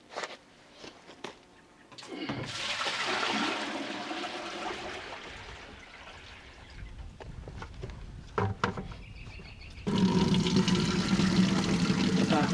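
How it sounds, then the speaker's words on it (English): Steady rainwater pours from a cabin roof gutter and splashes continuously, growing louder and fuller toward the end, with a brief gap and a few knocks along the way. "Let the roof clean off, and my water comes out nice and clean."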